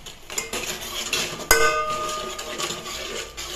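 A cooking pot stirred with a metal utensil at home, scraping and clinking steadily with one sharp clang partway through, close and alone without talk.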